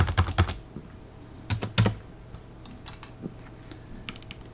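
Typing on a computer keyboard for retail management software entry: a quick cluster of crisp key taps, a pause, another short burst, then scattered lighter keystrokes, close-miked with no talk.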